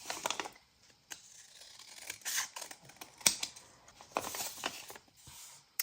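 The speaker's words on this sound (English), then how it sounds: "So I'm going to fold this." Paper being handled and folded into a junk journal pocket flap, with soft crinkling, rustling and crisp creasing taps close by, in short irregular bursts and no talking.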